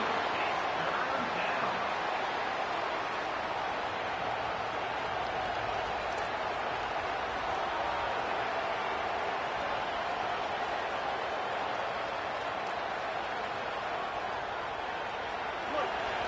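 Home crowd noise in the College Football 27 video game as the defense tries to get off the field on third down, a steady, broad roar of a stadium crowd with commentary voices running over it.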